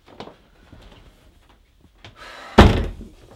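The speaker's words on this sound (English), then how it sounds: "Wait, I have to shut the door." A few soft shuffling sounds lead up to a door slamming shut with a loud, close thud that fades quickly.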